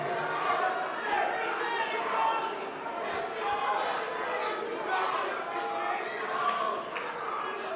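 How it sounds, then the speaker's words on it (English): A small crowd chatters and murmurs around a Mike Tyson and Jake Paul face-off at Fanatics Fest 2024, a dense steady hubbub of overlapping voices with occasional shouts that continues without pause. "Cute little crowd we got here."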